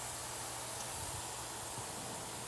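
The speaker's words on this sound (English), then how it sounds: "Sizzle, sizzle. Baby, listen to that." Lamb chops sizzle on an indoor grill with a steady, faint hiss and crackle throughout, no voices over it.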